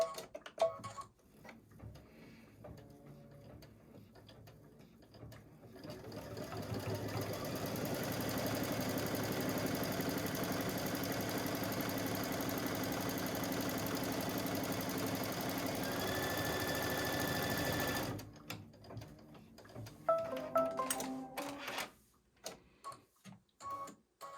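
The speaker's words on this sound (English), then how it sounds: "it's just going to stitch this tack down line all the way around" An embroidery machine stitches a tack-down line all the way around a baby block design in the hoop, a steady, dense mechanical whir with fine ticking that runs evenly for about twelve seconds, framed by quieter handling noises before and after.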